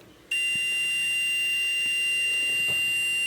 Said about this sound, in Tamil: அந்த 2 லீடையுமே வந்து நான் ஒன்றா டச் பண்ணுறேன் அப்படின்னா அப்போ வந்து எனக்கு ஒரு பீப் சவுண்ட் வந்து கேட்கும்.